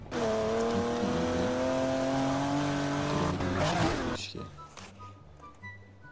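A car engine in the video game Grand Mobile drones at a steady pitch, then revs and fades out with a brief skidding sound, followed by quieter low rumbling.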